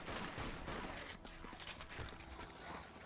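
Dense, continuous gunfire in the zombie shooter Dead Nation, with shots fired through a fence in a steady, crackling barrage at low volume.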